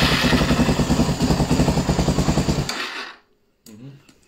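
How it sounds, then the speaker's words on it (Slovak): A motorcycle engine with a clutch problem runs close by with a rapid, rattling exhaust putter, then stalls abruptly, leaving a short quiet and a faint voice. "Lebo rapoce ten výfuk ako blázen."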